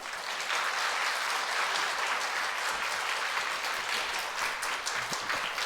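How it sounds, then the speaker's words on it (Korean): A church congregation at a Sunday afternoon service applauds to welcome a visiting pastor, producing sustained, dense clapping that fills the room at an even level from start to finish. "박수로 한번 모시겠습니다."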